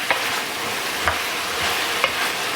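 Stirring in a hot pan as red wine deglazes browned oxtail drippings, a steady sizzle with three sharp scrapes of a utensil against the pan bottom, close and alone.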